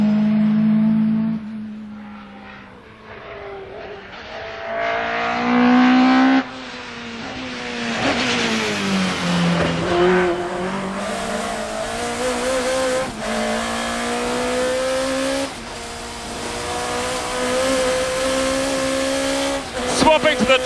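A front-wheel drive BTCC touring race car drives on a circuit, its engine revving hard through rising gear pulls and shifts, loud and close from onboard, with someone talking over it.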